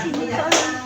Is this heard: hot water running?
no